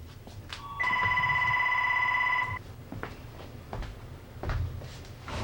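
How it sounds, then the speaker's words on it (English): A telephone rings once with a steady electronic tone lasting nearly two seconds, loud and close, followed by quieter room noise and faint shuffling. "Well, that's the phone."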